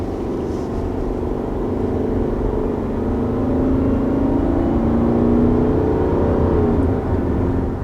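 A 2021 Subaru Forester with a CVT pulls away from a start. Its engine drone rises smoothly and steadily in pitch over several seconds, heard close from inside the car with no talk.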